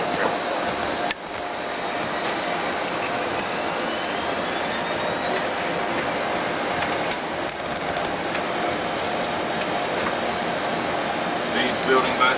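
Airbus engines at takeoff thrust during the takeoff roll, heard from the cockpit as a steady, loud broadband roar with a faint rising whine, constant throughout under occasional crew voices.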